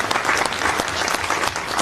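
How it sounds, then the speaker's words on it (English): Loud applause from a crowd at a political campaign event, dense steady clapping throughout, with no voices standing out. "Go ahead, give him a round of applause."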